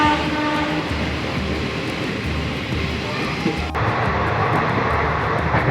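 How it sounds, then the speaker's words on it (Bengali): A freight train passes close by a moving passenger train, a loud continuous rumble and rattle of wagons filling the clip, with one sharp click partway through. "মালবাহী ট্রেন যাচ্ছে।"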